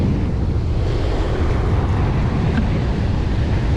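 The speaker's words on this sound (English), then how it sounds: "I really hope y'all can hear me because this wind is about to blow my hat off." Strong wind at a beach in Gulf Shores, Alabama buffets the microphone in a constant low roar, with surf faintly underneath.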